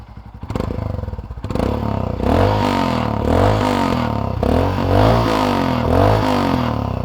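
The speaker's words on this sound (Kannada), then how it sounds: "ಈ ಗಾಡಿಯಲ್ಲಿ ನೋಡಿ ರೆಡ್ ರೂಸ್ಟರ್ ಪರ್ಫಾರ್ಮೆನ್ಸ್ ಎಕ್ಸಾಸ್ಟ್ ಐತೆ, ಸಕ್ಕದಾಗಿರೋದು" A Royal Enfield Scram 411 motorcycle fitted with a Red Rooster performance exhaust starts up and settles into a loud, close, deep thumping idle with steady rhythmic pulses and a few slight revs.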